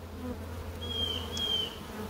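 Honeybees buzzing steadily at a hive entrance, a soft, continuous hum with a higher single insect drone passing close by midway, no talking.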